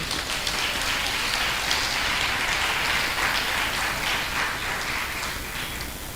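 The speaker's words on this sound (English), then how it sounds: "Let's have another round of applause for them." Audience applause at a girls' high school centenary media launch, a sustained, even roar of many hands clapping that stays loud and full for several seconds before easing slightly at the end.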